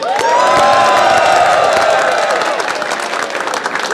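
A crowd at an underground rap battle cheers, whoops and applauds loudly and continuously, a dense roar of voices and clapping that fades slightly toward the end.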